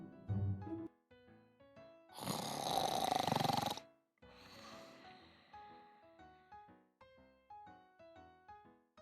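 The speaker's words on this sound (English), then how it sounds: "the young man knew he should pretend to snore" A young man's pretend snore in a fairy tale about twelve dancing princesses: one long, loud, rasping snore lasting a couple of seconds, breaking through gentle plucked background music.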